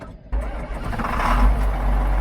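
A truck engine cranks and catches on a chilly morning, then settles into a loud, steady rumbling idle right up close.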